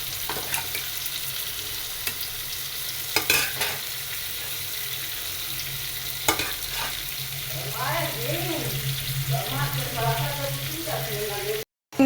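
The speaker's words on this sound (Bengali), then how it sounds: "একটু কাঁচা কাঁচা পেঁয়াজ দিয়ে চিংড়িটা ভুনা হবে।" Shrimp and onion fry and get stirred in a pan, a steady sizzle with repeated spatula scrapes and clatters, close and continuous, cut off abruptly near the end.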